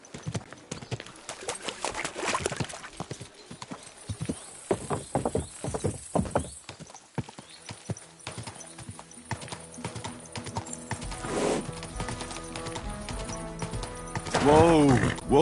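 Horse hooves clip-clopping on a street in the medieval game Kingdom Come Deliverance 2, irregular close hoof strikes with clattering, a horse whinny near the end, and voices talking intermittently over town ambience.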